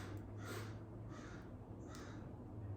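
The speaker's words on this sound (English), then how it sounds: "Do you hear that bird in the background?" A crow caws three times in the distance, faint harsh calls spaced about a second apart over a low steady hum.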